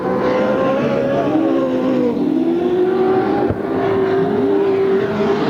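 Stock cars race around a dirt oval track at a Turkey Classic event in Pearsonville, California, their engines droning loud and continuous with shifting pitch as the cars power through the turns.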